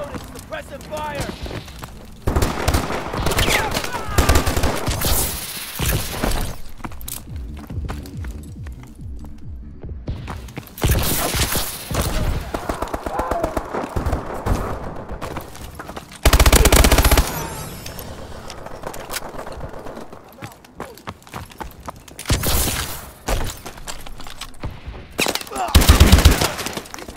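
Automatic and rapid gunfire in the Call of Duty: Advanced Warfare video game, loud bursts of shooting repeating across the match, mixed with game sound effects and voice callouts.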